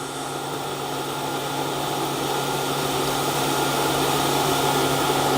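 TIG welding titanium with commercially pure grade 2 filler wire: a steady, close hiss and hum of the arc and shielding gas that runs unbroken at an even level.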